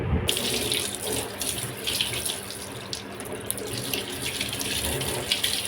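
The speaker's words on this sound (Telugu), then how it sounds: "ఇప్పుడు వాష్ చేసుకోవచ్చు చల్లటి నీళ్ళతోటి" Cold tap water runs steadily over hands, rinsing off dried betel leaf paste, a continuous close splashing stream with no talk.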